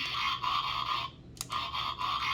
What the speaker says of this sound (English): He's got both versions of the transformation noise.